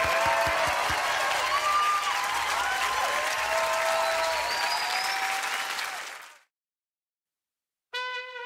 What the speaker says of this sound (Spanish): El aplauso para mis vástagos